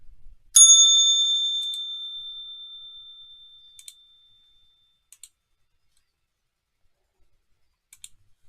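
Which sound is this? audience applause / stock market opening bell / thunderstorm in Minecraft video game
stock market opening bell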